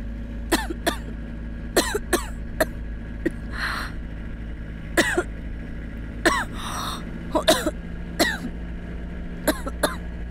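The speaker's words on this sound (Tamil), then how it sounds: "இருமல் அதிகமாக இருக்கு பாரு, டேப்லெட் வாங்கிடலாமா?" Repeated coughs and throat-clearing bursts, several in quick succession then spaced apart, fairly close over a steady low hum, with no speech.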